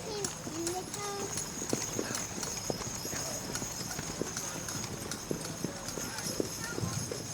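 Draft horses in a tandem hitch pull a cart at a 2016 4-H fair, their hooves clip-clopping in a steady, moderately close rhythm, with voices talking in the background.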